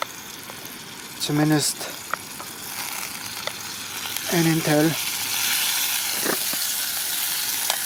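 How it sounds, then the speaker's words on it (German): Marinated lamb sears in hot oil in a pan over an outdoor campfire, a loud, steady sizzle and crackle that swells as the meat goes in, with someone talking briefly over it. "Ich habe hier mariniertes Lammfleisch und das werde ich hier scharf anbraten."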